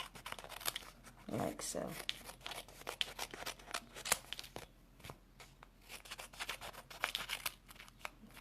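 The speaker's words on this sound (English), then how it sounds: "just flip it over and just trim away the excess" Scissors snip excess paper from a die cut card panel, a run of short crisp cuts and paper rustling close by, with a voice talking quietly over it.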